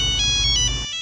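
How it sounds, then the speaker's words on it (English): A mobile phone ringtone plays loudly and close, a bright tonal melody lasting about a second before cutting off abruptly. "Your phone they ring."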